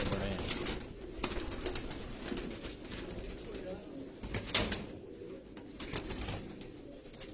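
Jaunsara breed pigeons on a Karachi rooftop coo in a low, continuous murmur, joined by scattered clicks and rustles from the flock nearby.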